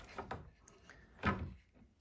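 Tip-out drawers in a travel trailer being opened and closed, two soft thuds and rattles close by, the second one louder, with no talking.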